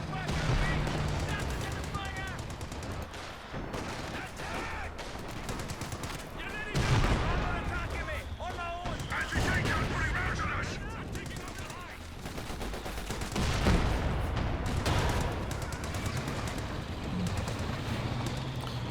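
Vickers machine gun fire in the strategy game Company of Heroes 2, with repeated bursts, scattered rifle shots and battle noise in a dense, busy mix, and a commentator talking over it throughout.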